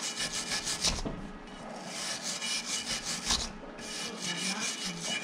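A wire brush scrubs a fresh steel weld by hand, rasping in repeated back-and-forth strokes, close and steady, with no talk.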